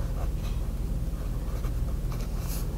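A Lamy Studio fountain pen with a medium cursive italic nib scratches across paper, dragging a little dry, soft close scratchy strokes over a steady low background hum.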